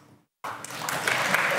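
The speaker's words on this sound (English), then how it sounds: "Round of applause if you haven't." Conference audience at a Golang UK event breaking into applause after a short quiet gap, the clapping starting abruptly and swelling as more hands join.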